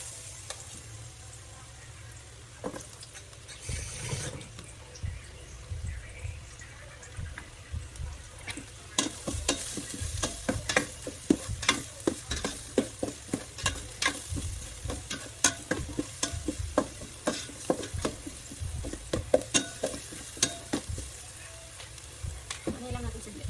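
Garlic sizzles in a pan while a utensil stirs it, with a steady frying hiss and rapid, irregular scraping clicks that grow busier after the first few seconds.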